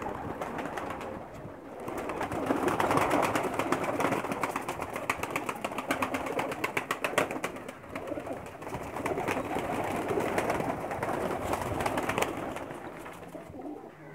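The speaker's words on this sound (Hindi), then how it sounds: "कबूतर ज़्यादा तादाद में है, इसलिए वीडियो बनाने में थोड़ी दिक्कत हो रही है।" A large flock of pigeons cooing continuously, a dense layered murmur of many birds close by with occasional wing flutters, no talk.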